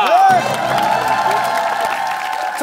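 A studio audience on a Korean TV talent show cheers and claps: a loud whoop opens over continuous clapping and crowd noise, with a musical tone sounding through it at a steady, close level.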